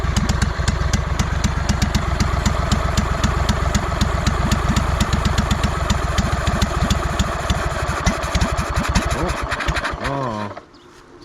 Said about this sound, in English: It's idling just a bit too low right now.